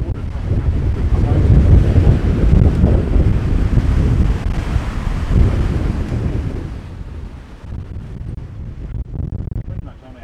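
Loud rushing wind and crashing water surge around a moving sailboat in heavy weather, with waves splashing and spray washing over, easing slightly toward the end.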